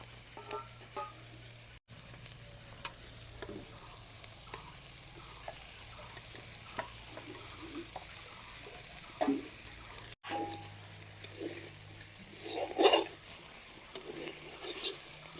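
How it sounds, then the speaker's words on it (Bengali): Bottle gourd peel and potato fry in a pan with a soft steady sizzle, broken by scattered clinks and scrapes of a spatula stirring, close up with no speech. "সব কিছু মিশিয়ে দশ মিনিট ভাজিয়ে নিলাম"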